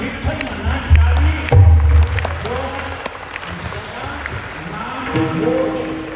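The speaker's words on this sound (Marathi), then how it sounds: "तुम्ही टाळी वाजून विठ्ठल म्हणा" A crowd claps hands together at a Dharma Jagran festival in Goveli, Titwala, Thane, giving a bursty, rhythmic patter of applause mixed with loud voices.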